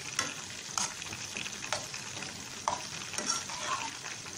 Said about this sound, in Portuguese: Vou deixar dar uma refogadinha, gente.